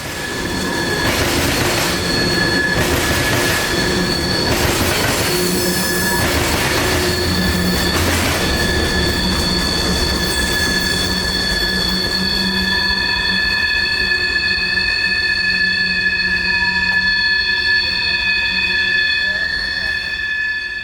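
Ethanol freight train B631 passing close by, a loud continuous rumble with rhythmic wheel clatter early on, then sustained high-pitched wheel squeal and steady rolling noise.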